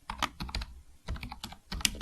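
Typing on a computer keyboard, close and fairly quiet, with clusters of quick key clicks separated by a short pause.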